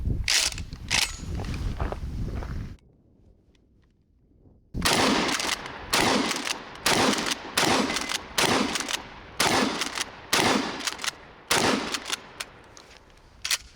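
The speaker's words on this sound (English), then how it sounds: "Let's shoot this thing." A Mossberg 590A1 Retrograde 12 gauge pump shotgun fires a quick pair of blasts, then after a pause a steady series of about eight loud booming shots, each followed by the clack of the pump action.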